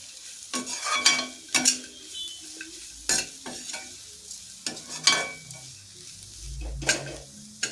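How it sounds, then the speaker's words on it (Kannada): Coconut rice with ghee stirred in a pan, a close sequence of spoon scrapes and clinks against the metal with a light sizzle underneath, irregular strokes at a moderate level. "ತುಪ್ಪನೆಲ್ಲವನ್ನು ಚೆನ್ನಾಗಿ ಮಿಕ್ಸ್ ಮಾಡ್ತಾ ಇದ್ದೀನಿ"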